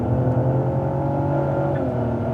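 Cadillac ATS-V on a race track, its engine holding a loud, steady droning tone under throttle, heard close and continuous from inside the car, with no speech.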